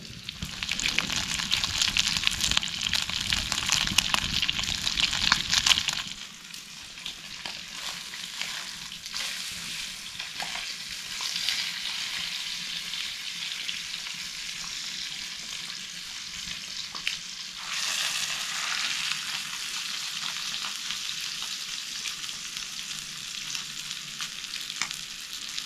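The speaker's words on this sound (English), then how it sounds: "Probably have just enough heat to get the burgers cooked before the fire will die off." Burgers cooking over a campfire inside a sandstone cave in Brisbane Water National Park give a continuous close sizzle and crackle, louder at first and then settling to a steadier frying hiss.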